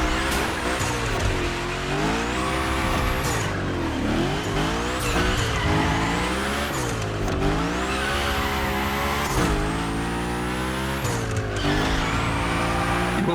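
Cars slide through gymkhana runs in The Crew Motorfest, engines revving hard with rising and falling pitch while tires squeal in repeated long skids, loud and continuous throughout.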